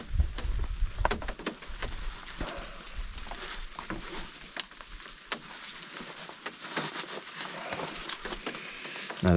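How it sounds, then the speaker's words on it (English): Heavy wind-driven rain coming down on a wild camping trip by Loch Etive in Scotland, a steady close patter and hiss of drops with gusty rumble and irregular louder spatters, no talking. "The wind's picked up, the rain's coming down, it's absolutely hossing it down."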